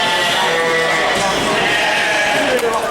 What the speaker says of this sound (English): And over there are all the sheep again.